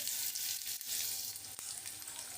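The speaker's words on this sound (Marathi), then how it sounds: "कांदा आपला भाजून घ्यायचा" Onion sizzles steadily in a pan with cumin seeds, a continuous soft crackle and hiss heard up close with no voices.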